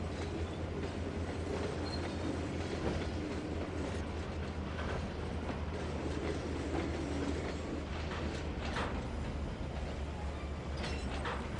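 A freight train with Burlington Northern boxcars rolling past in Trainz 2022, a continuous low rumble with steady wheel clatter and occasional squeals, fairly loud and unbroken throughout.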